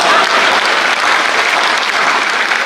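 A large audience applauds after a joke at a Hindi comedy performance, producing a steady, dense wash of clapping that holds loud and even throughout, with no voices on top.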